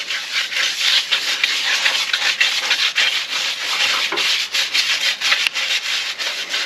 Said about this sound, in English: We're just going to agitate it into the that wheel.